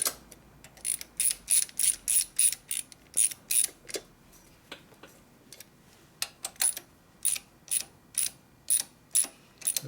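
A ratchet tightens bolts on a 1970s Ford 400 cubic-inch engine going into a 1958 F100, in repeated bursts of quick metallic clicking with short pauses between strokes, close and fairly crisp, with no talking.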